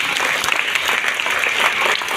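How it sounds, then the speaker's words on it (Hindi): Loud, dense applause from an audience at a certificate distribution event in Bhilai, a continuous roar of many hands clapping at once with no letup. "एक बार इनके लिए भी जोरदार तालियां"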